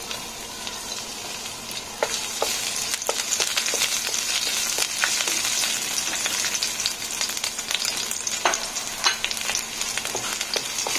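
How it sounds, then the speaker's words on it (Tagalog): Garlic sizzles in a little oil in a pan, a dense, close crackling fry with small pops throughout and brief stirring scrapes, steady and uninterrupted with no voices. "Lalagay na natin yung ating bawang."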